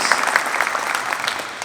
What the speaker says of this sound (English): Give Coach Paulson a round of applause, guys.